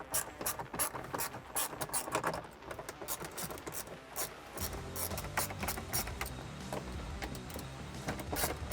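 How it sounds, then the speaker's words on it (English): A 1/4-inch ratchet with extension and 9/32 socket loosening bolts during a car navigation unit install, rapid clicking pawl bursts in quick repeated strokes, close and fairly loud, with no voices. "we're going to grab our 1/4-inch ratchet, an extension, and our 9/32 socket, and we're going to get these guys out"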